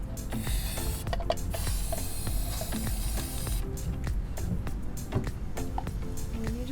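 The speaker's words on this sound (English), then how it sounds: "So we've got our little cup and we will spray paint." Spray paint hisses from a can in steady, continuous bursts during a van conversion window job, with some clatter and handling noises mixed in and no talking.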